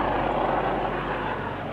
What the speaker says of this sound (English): the police helicopter X-Ray Alpha 99 has been called in to help with the search